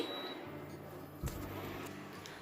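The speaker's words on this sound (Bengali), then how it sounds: "ইন্ডাকশানটাই দেখো এই দেখো পজ হয়ে গেল নিজে নিজে" Induction cooktop with potatoes boiling, pausing by itself and giving a short electronic beep, faint against quiet room background.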